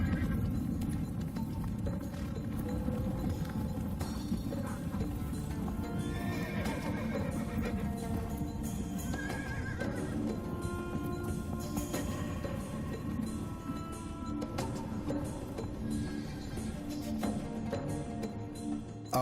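Horses neigh and whinny while hooves clip-clop continuously at a breeding station, with steady hoof rhythm and repeated calls over a dense, lively background.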